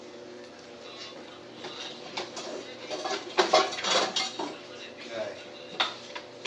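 Metal pots and pans clatter and clank as someone rummages through them for a strainer, a busy run of close knocks and scrapes with a brief spoken word.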